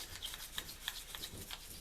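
Parts of a Daiwa M80 closed-face fishing reel are scrubbed clean after being sprayed down, giving quiet, repeated brushing and rubbing strokes in short irregular bursts.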